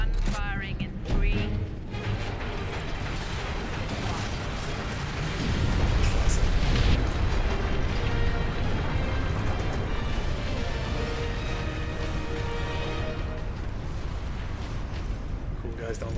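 Fortress detonating in the Space Marine video game: heavy booming explosions and rumbling blasts run continuously, loudest mid-way, with game voices and effects mixed through the din.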